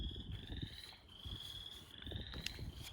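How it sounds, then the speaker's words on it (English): Frogs croak in a creek near a cork tree. Quiet, irregular low croaks repeat against a steady high trilling chorus, and faint clicks and rustles sit in the background. "I hope you've enjoyed listening to these frogs in the creek with me"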